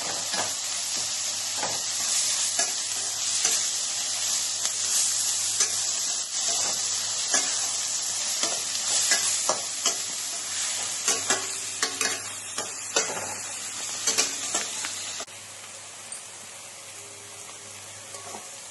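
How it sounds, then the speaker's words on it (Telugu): Banana flower stir-fried in a tempering of spices in a pan, giving a steady close sizzle with frequent clinks and scrapes of the stirring spoon, running alone without speech. "అట్టి పువ్వు తాలింపు చేసుకున్నాం."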